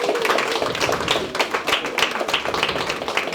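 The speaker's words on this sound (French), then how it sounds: "Andrea Ilboudo, que je vous prie d'applaudir s'il vous plaît." Audience clapping at an evening ceremony honouring a guest, a dense burst of many hands that rises and falls unevenly, fairly close and loud, with no talk over it.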